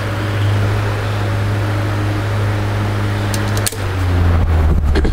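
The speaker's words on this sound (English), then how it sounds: "Four-bladed fan. Sounds like a giant refrigerator fan startup" A four-bladed Mimar 12-inch table fan whirs steadily with a low hum, then a brief clunk and the motor tone shifts slightly as it keeps running.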